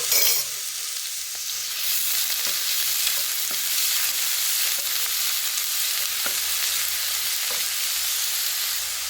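Sliced onions hit hot oil in a pan and fry with a loud, steady sizzling hiss, broken by a few soft stirring scrapes, close and continuous with no talking.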